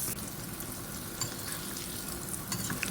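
Catfish deep frying in a pan until golden and crisp makes a steady, moderately quiet sizzling hiss with a few faint pops, close by and without talk.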